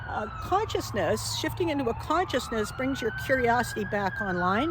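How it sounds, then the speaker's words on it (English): An emergency siren passing outside, its rising and falling wail sweeping steadily in the background beneath continuous close speech. "Sorry about the siren."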